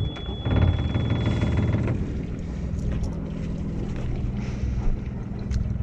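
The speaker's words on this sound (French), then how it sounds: "rien ne nous empêche de démarrer le moteur pour le faire chauffer un petit peu" A sailboat's inboard engine starts and idles steadily in neutral to warm up, a low continuous throbbing close by with some wind noise over it.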